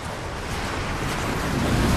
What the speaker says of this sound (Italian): C'è un vento fortissimo!